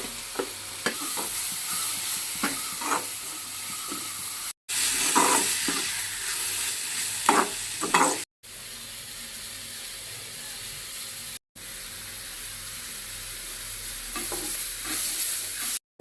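Chopped garlic and ginger sauté with salted onion in oil, a close steady frying hiss under repeated scraping stirs, broken by several short silent gaps.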